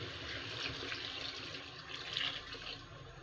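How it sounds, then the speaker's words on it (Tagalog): Water pours steadily into a pot of pochero stew with tomato, oyster sauce and vegetables, a faint continuous splashing rush heard alone for a few seconds. "lalagyan na natin siya ng water para lumambot na yung ating gulay"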